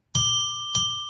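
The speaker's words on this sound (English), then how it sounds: "why don't we ring a bell 3 times to declare sacred space" A bell chimes twice with clear ringing tones, each stroke sustaining and overlapping into a bright shimmering decay, heard alone with no talking.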